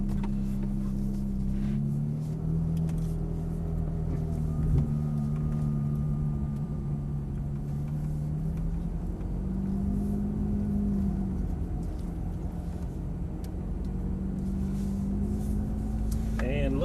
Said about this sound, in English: We'll pull out nice and easy, head toward the left.